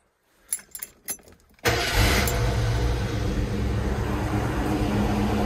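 A 1979 Ford Mustang, an early Fox body fitted with new dual exhaust, cranks with a few clicks and rattles and then catches and fires up. It settles into a steady, loud, rumbling idle that runs on with no talk over it.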